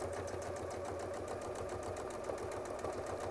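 A sewing machine stitches a free-motion quilt, running at a fast, even pace with a soft rhythmic clatter that continues unbroken and fairly quiet.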